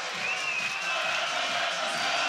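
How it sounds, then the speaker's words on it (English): An arena crowd cheers loudly and steadily at a FIBA 3x3 World Cup 2023 men's basketball semi-final between Serbia and Latvia. Whoops and a high whistle rise above the roar of voices. "And the crowd is going wild."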